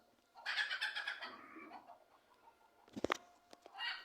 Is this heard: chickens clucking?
yes